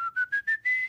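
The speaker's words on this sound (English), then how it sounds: "Yep, like whistling." A person whistles with the mouth, five short clear tones rising step by step in pitch, the last held a little longer, sounding close and soft with nothing else heard around it.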